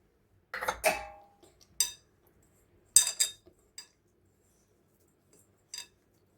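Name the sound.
mixing Dharwad peda mixture with cardamom powder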